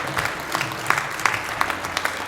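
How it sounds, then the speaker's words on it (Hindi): Audience applause fills an auditorium at a Maheshwari community award ceremony for the Mahesh Bhushan prize, a steady, dense clapping with sharp individual claps standing out throughout. "मंच पर तालियां।"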